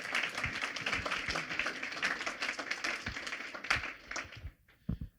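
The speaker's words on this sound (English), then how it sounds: "How about another round of applause for Dr." Audience applause after a talk on population growth and innovation, quiet and somewhat distant clapping with individual claps audible, thinning out and dying away into near silence at the end.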